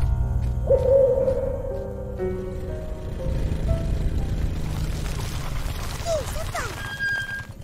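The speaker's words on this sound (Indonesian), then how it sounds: "Burung hantu." Cartoon owl hooting at night, a few short hoots sounding near the end over background music, after children talk and call out in the scene.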